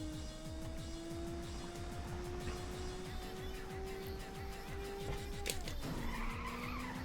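A car drifting in the Ridge Racer video game, with a sustained engine whine climbing in pitch under continuous tire squeal and skidding. The pitch drops sharply near the end as the car shifts, and no one speaks.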